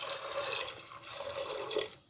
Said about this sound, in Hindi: फ्रेंड्स, हम इसमें डालेंगे 1/2 जग पानी।